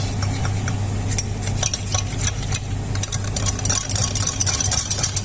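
Steady scraping and clinking of a utensil stirring a mixture with black pepper and water in a pot, repeated in an irregular rhythm over a constant low engine-like hum.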